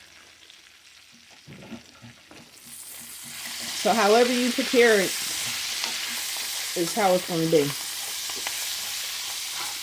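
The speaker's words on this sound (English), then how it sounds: "And frying collard greens" Collard greens fry in a pan, a steady sizzling hiss starting a few seconds in and continuing beneath a person talking.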